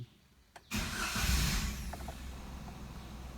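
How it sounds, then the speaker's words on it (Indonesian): A used car's engine cranks briefly after a click, then catches and settles into a steady mid-pitched idle, close and moderately loud, with no one speaking. "Nah, kita hidupkan mesinnya, pasti akan mati."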